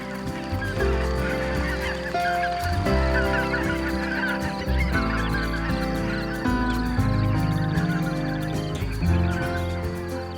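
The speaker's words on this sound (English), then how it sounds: "The atmosphere is dominated by the calls of the grey-lag geese." A noisy chorus of greylag geese honking continuously, many overlapping calls over a constant low hum, loud and steady throughout.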